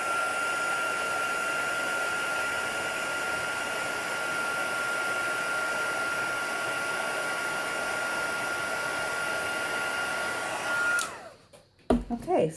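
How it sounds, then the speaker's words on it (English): A heat tool blows hot air over clear embossing powder to melt it: a loud, steady whirring hiss that runs unbroken for about eleven seconds before it is switched off, followed by a few soft handling noises. "I immediately put it into clear embossing powder and then heated it up"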